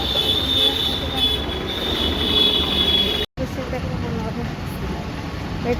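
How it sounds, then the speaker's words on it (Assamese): A train pulling in, loud rolling rumble with a thin, sustained wheel squeal on top, a brief dropout midway, then continued heavy clatter, with people talking nearby. "ট্ৰেইন আহি গ'ল"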